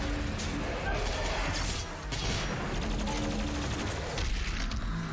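Doom Eternal combat with a super shotgun firing amid a dense, continuous wash of explosions and crashing game noise, while a player talks over it.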